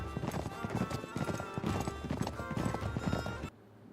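Horse galloping in Uncharted 3, a steady run of hoof clip-clops with no voices, dense and up close with a busy game mix behind it. The sound drops away abruptly just before the end.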